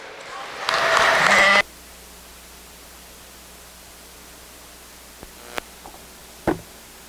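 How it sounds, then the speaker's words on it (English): A short, loud burst of clapping from spectators at a sheep show ring after a Poll Dorset ewe class lasts about a second, then cuts to near silence broken by a couple of faint knocks. "Let's give these exhibitors a round of applause as they exit the ring."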